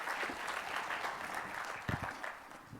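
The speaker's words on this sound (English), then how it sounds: "That's obviously been a very thought-provoking talk, so round of applause" Soft, distant audience applause follows a medical conference talk on a kidney drug, a brief, even patter of clapping heard faintly throughout.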